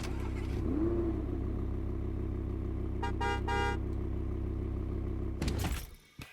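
A car in the Fortnite video game idles with a steady low engine drone, a short horn honk in the middle, then the engine revs briefly before cutting out.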